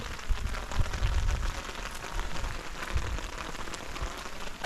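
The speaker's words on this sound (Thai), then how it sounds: "ฝนตกใส่กล้อง" Steady rain patters and taps close by on the camera, with irregular drops striking it and a constant wash of rainfall throughout.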